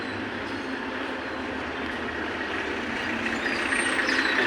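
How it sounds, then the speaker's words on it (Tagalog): Steady rumble of heavy road traffic with trucks and buses moving past on a busy city street near a sports complex, a continuous low drone with hissing air brakes rising toward the end. "Maraming mga sasakyan."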